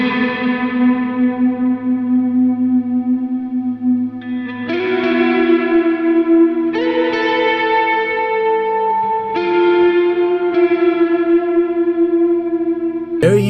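Electric guitar through the Line 6 Helix Native Ambi Lead preset plays sustained, heavily effected lead notes with chorus-like shimmer, distortion and long echo tails, loud and continuous with a few note changes.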